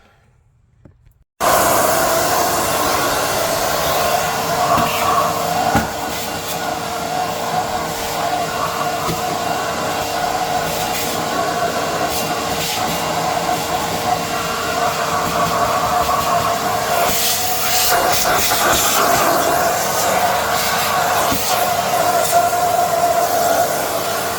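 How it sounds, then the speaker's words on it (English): A hoover sucks debris out from under the cabin filter area of a Jaguar XK (X150). After a brief quiet start, a loud, steady motor roar and airflow hiss switches on and holds with little change, shifting slightly as the nozzle moves. "let's get a hoover in there and suck all those bits out of there."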